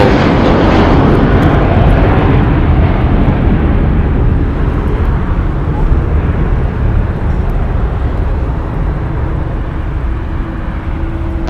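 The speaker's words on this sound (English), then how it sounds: "Departing here is JetBlue Flight 288 going to Boston. It's their Airbus A321" A seven-year-old JetBlue Airbus A321 jet departs LAX bound for Boston, its engines giving a loud, sustained broadband roar that eases slightly over the whole stretch, with no voices.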